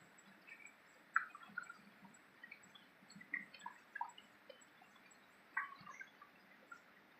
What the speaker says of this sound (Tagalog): mga tubig, papatak-patak lang dyan